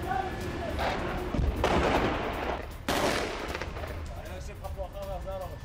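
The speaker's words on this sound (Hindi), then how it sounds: "ये देखिए किस तरीके से यहां पर गोलीबारी हो रही है" Gunfire from an Israeli Givati infantry brigade in Khan Younis crackles in loud bursts of rapid shots and heavy booms. A voice is heard near the end.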